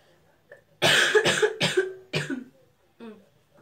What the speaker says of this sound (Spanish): Pero voy a toser.